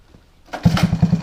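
Small Honda ATC 110 three-wheeler engine with a broken exhaust catching after a short crank, then puttering at a quick, uneven idle, close and loud.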